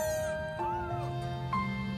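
A sixteen-day-old baby kitten lets out a few thin, high meows in close succession, loud and near with no talking over them.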